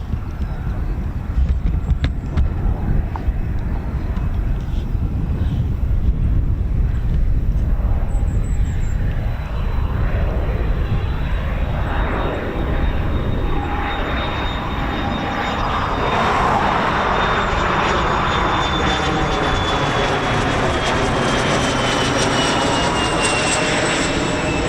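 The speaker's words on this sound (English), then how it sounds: "Oh, the Embraer Phenom's coming round again." An Embraer Phenom business jet passes overhead at RAF Marham, a loud, sustained engine roar that swells and shifts in pitch as it goes by, with faint background noise and no clear talk.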